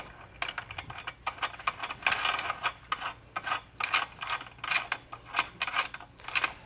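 A nut is spun by hand onto a bolt during a Curt trailer hitch installation on a 2022 Hyundai Palisade, producing close, rapid, irregular metallic clicks and ticks that continue steadily without speech.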